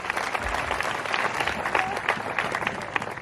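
A church congregation in Nakivale applauds, a dense, steady round of many hands clapping that fills the room for a few seconds, close and fairly loud.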